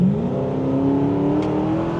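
A car engine pulling steadily under acceleration in third gear, a continuous loud droning rise in pitch heard from outside the car, no voices.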